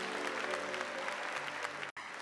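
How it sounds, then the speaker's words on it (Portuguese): An audience at a church gathering claps steadily in a loud, dense round of applause, with a brief cut near the end. "Gente, Minas está aqui, aplauda Minas Gerais."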